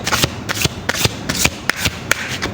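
Tarot cards being shuffled by hand, a close, loud series of quick riffling bursts in a steady rhythm, each flutter of cards clearly separated, with no voices.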